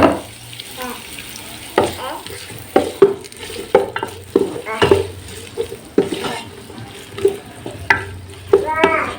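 Onions sizzle gently in a pan of ghee while a spoon scrapes and clacks against the pan in irregular strokes, close up.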